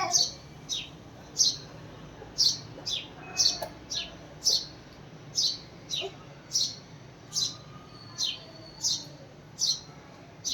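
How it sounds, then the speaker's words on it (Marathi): Repeated sharp house sparrow chirps ring out at a steady, regular pace, close and clear over a quiet background with a faint voice now and then. "दुसऱ्या चिवचिवला कशी बोलवते बघ."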